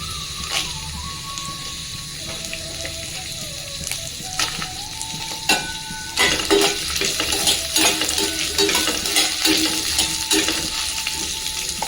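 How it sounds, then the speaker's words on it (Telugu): Chana dal, urad dal, fenugreek seeds, coconut and coriander seeds sizzle and crackle in hot oil, with stirring scrapes and light clinks growing busier partway through. "ఇప్పుడు ఈ ఆయిల్లో శనగపప్పు, మినపప్పు, కొంచెం మెంతులు, కొబ్బరి, ధనియాలు వేసుకుంటున్నా."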